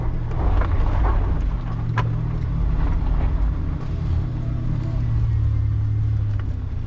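4WD vehicle in low range crawling up a steep slope under light throttle, a steady low engine rumble and drivetrain drone, close and continuous, with a few small knocks.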